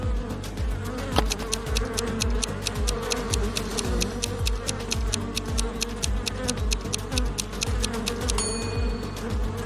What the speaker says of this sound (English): What do you think is more dangerous in this situation? A bear or a swarm of bees?